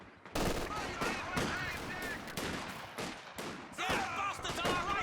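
Rapid gunfire crackles through a Company of Heroes 2 battle as Pathfinders pick off Grenadiers, with dense overlapping shots and bursts repeating steadily and loudly for the whole stretch.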